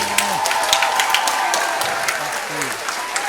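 A crowd applauds steadily throughout, a dense wash of clapping, while a voice talks briefly underneath at the start and near the end.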